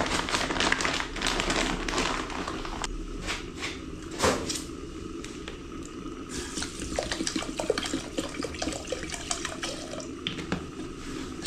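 Food, rice, is rinsed under a running kitchen tap, with a steady splash of water broken by clanks of dishes or a pot and occasional knocks nearby.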